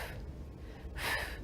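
A voice imitates pursed lip breathing on exertion, a soft, close breathy exhale pushed out through narrowed lips, brief and faint.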